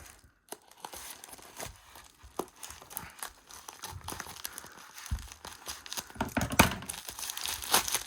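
Crinkling and tearing of a mail package of trading cards being opened by hand, close and fairly quiet, with scattered crunches and rips building toward a louder burst near the end.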